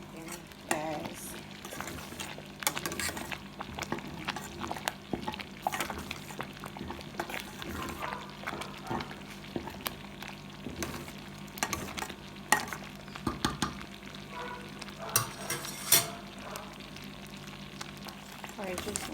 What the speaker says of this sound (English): add some hot water and then stir it again and allow it to cook.